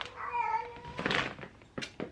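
A female house cat in heat lets out a drawn-out, wavering meow, followed by a few shorter calls and soft knocks, fairly quiet and close indoors.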